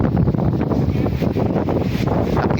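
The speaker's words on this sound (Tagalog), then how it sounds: "lumakas ng hangin" Strong wind gusting over open sea beside a fishing boat out after blue marlin, a loud continuous broadband roar buffeting the microphone throughout with no pauses.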